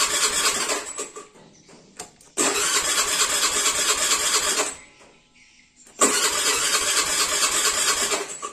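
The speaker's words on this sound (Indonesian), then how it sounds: "Kalau didengar dari suaranya deng deng deng kayak gitu, itu ada suara kompresi, ada suara terjadinya ledakan, cuman nggak mau hidup gitu ya." A Honda Beat FI scooter cranking without starting: two long, loud bursts of grinding starter churn a few seconds each, separated by a short quieter pause, close by with no talk.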